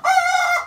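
A small fancy mottled Silkie chicken gives a single short crow, close and loud, a brief tonal call with no other sound around it.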